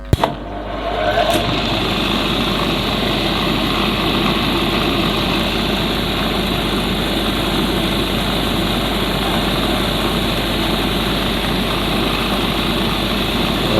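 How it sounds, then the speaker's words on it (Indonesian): A stone polishing machine for opal starts with a sharp click and then runs as a steady, loud motor drone with a constant whir for the rest of the clip. No one speaks. "Kita langsung ke mesin. Kita start mesinnya."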